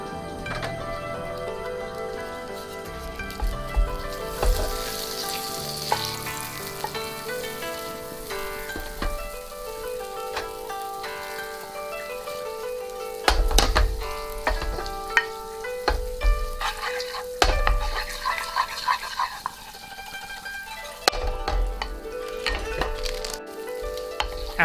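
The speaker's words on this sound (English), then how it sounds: "Melt the butter on low to avoid any burning." Butter melting in a pan on low heat for a miso gratin sauce with bamboo shoots, giving a soft, steady sizzle with occasional stirring clicks over background music.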